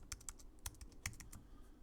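Keys clatter on a computer keyboard in a series of light, quick, irregular taps with short pauses, close and fairly quiet, no voices.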